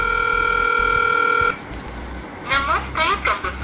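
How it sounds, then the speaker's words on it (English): An outgoing call on a Fly F8 S Android tablet rings with a steady electronic ringback tone for about a second and a half, then cuts off as a recorded voice answers. "I'll quickly dial a number and give you a demonstration how the sound quality on this tablet is."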